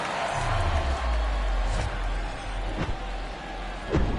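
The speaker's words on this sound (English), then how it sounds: "The crowd is amped up, ready to get this season underway" Stadium crowd noise swells and cheers in a baseball video game at Coors Field in Denver on opening day, a broad roar with a few sharp bursts, mixed under what sounds like announcer talk.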